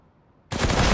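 P90 submachine gun fire in a video game, a sudden loud sustained burst of rapid shots that starts abruptly halfway through and continues to the end.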